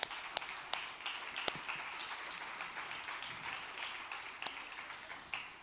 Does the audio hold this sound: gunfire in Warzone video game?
no